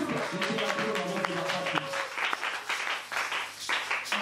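A church congregation in Lubumbashi applauds during a sermon, a dense, sustained wash of clapping close by and loud, with voices calling out underneath.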